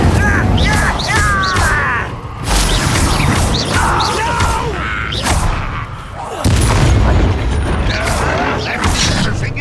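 Fire spell blasts and bursts of magical combat in the video game Hogwarts Legacy, loud and dense with repeated booming impacts, whooshes and crashes filling the whole stretch, with a voice calling out over the action.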